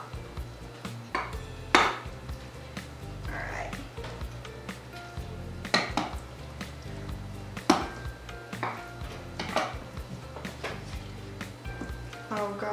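A spoon stirs mac and cheese in a baking dish, making repeated scraping knocks and clinks against the dish at an irregular pace. A person talks in between.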